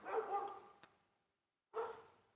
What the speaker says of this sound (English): As you can probably hear my dog there.